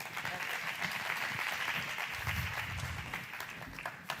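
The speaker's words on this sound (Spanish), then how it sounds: "Un aplauso, por favor." Steady audience applause at a scientific seminar on marine forests in Valencia, continuous clapping from a room of people at moderate distance, with some low rumble under it.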